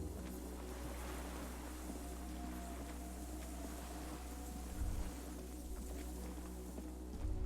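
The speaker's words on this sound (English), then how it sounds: "The distant sound of cargo ships." Distant cargo ships and signal horns over water in the Disco Elysium video game, a low steady droning rumble with faint wind and lapping water, and a deep horn-like swell near the end.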